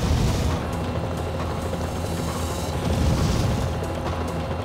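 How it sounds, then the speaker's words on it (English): Rockets exploding in the video game Knight Rider 2, a continuous rumbling barrage of booms with dense low-end blasts running throughout, loud and unbroken. "there's no way avoiding these fucking rockets"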